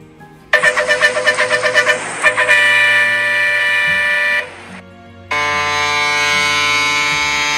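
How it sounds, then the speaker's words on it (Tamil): Vehicle horns honk in a heavy traffic jam, a quick run of short toots followed by long sustained blasts that stop briefly and then resume, loud and close. "ரொம்ப நேரமா வண்டி டிராஃபிக்ல நிக்குது, பயங்கர டிராஃபிக் ஜாம்ல மாட்டிக்கிட்டோன்னு நினைக்கிறேன்"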